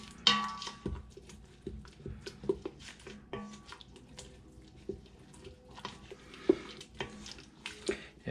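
A spoon stirs seasoning mix into a pan of carne asada with scraping and clinking against the metal and a soft sizzle underneath, close and fairly quiet, in uneven strokes.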